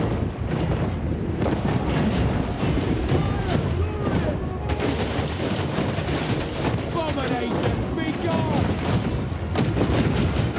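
Continuous artillery fire and booming in the video game Exiles of Nehek, dense overlapping blasts and rumble with battle noise, voices from the game mixed in throughout.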